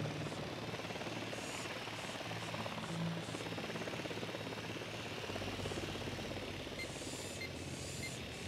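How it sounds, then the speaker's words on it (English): A helicopter approaching in the video game Ghost Recon Wildlands, a steady low rotor thrum and engine whine under game ambience, distant and faint, with no speech. "Chopper's approaching."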